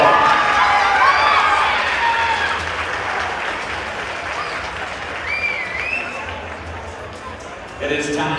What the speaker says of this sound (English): One more round of applause for your Evanston High School Red Devil Cheer Squad